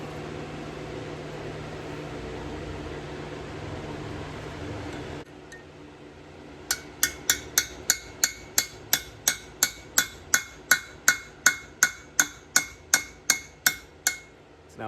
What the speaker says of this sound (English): put it into the groove right there, and then I'll just hammer it until it splits and falls to the bottom.